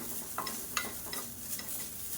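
Grated coconut lightly roasting in a pan for kulambu, with soft scraping stirs and a faint dry sizzle, several quick strokes close by and quiet, no voices.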